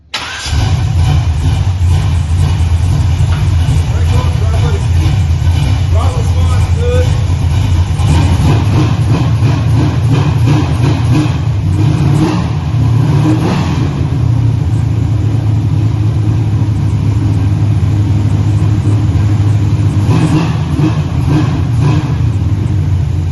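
A car engine with a freshly rebuilt carburetor, fitted with a higher-quality float set to the correct level, cranks and starts, then runs loud and close with steady revving for over twenty seconds.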